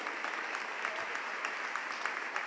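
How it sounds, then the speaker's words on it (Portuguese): A church congregation applauds in a steady, dense wash of clapping that holds for the whole moment, moderately distant and fairly soft, with no voices over it. "aplauda ele por isso"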